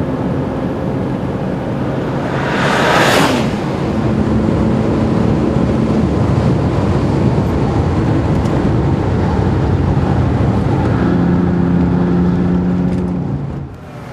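A 620-horsepower, 5,000-pound Bentley Continental Supersports laps a race track, its engine a steady, loud drone with a brief rushing swell early on as it powers through the corners.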